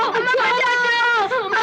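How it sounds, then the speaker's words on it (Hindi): Children wail and cry loudly in a dramatized fantasy story scene, a close, continuous, quivering moan with no talk over it. "तुम्हारे रोने की आवाजें मुझे पसंद नहीं है।"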